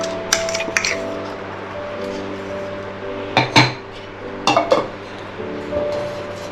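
Crushed red chilies for pickle are tipped and scraped into a metal plate in a home kitchen, with several sharp metallic clinks and clatters between quieter scraping, close and fairly soft.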